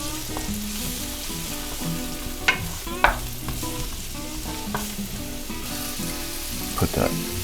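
Chopped onion sizzles steadily in a hot pan with butter, a continuous close frying crackle broken by a few clinks and scrapes of stirring.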